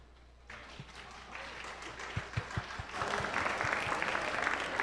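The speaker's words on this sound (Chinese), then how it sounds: "我们开始为他们拍拍手好吗？" An audience at a Christmas Eve evening concert claps before a choir performance, with a few scattered claps at first building into steady, fuller applause from a hall crowd.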